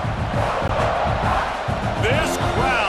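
Stadium crowd roaring at a Virginia Tech at South Carolina college football game, a loud sustained cheer with rhythmic chanting under a commentator's voice.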